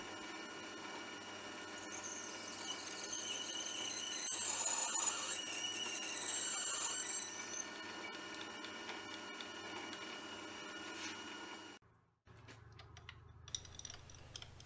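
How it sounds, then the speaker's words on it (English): A thin, high-pitched metallic squeal of a 2mm drill boring into metal on a lathe, steady for several seconds before stopping, leaving quiet machine hum. "I'm using a 2mm drill just to drill in a few millimetres."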